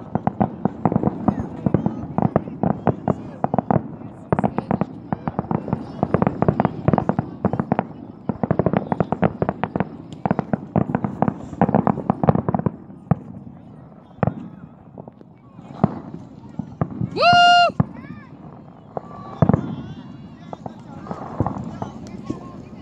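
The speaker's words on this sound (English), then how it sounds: "It's sparkly fireworks" Sparkly fireworks bursting at an outdoor show, a dense run of sharp crackling pops and bangs over steady crowd chatter, with a brief whistling rise near the end.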